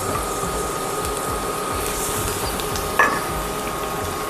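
Garlic and onion sautéing in a pan for a lemon risotto, a steady close sizzle running throughout with one brief clink of utensil near the end.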